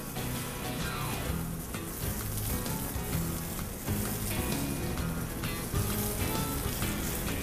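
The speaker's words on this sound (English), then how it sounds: "we're going to let them drift off to the back of the pan and set in your fish." Fish fillets set into a hot pan beside peppers and shallots give a steady, dense sizzle and crackle that runs continuously at moderate volume, with no voices over it.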